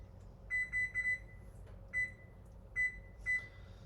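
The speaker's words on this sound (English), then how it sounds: "So I'm gonna set a timer." A kitchen timer, set while food sits to cook, gives out several bright electronic beeps in short clusters with pauses between, fairly close in a quiet room.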